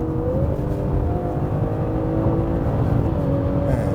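A BMW 540i or 630i GT engine in automatic mode, heard from inside the cabin, revving steadily toward its redline just short of 7000 rpm, with a rising drone and a brief shift-up near the end.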